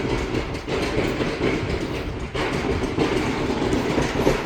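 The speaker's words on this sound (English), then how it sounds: "a plow coming through" A snow plow passes by on a snowy road, a loud, steady rumbling roar with rattling clatter, close and continuous throughout.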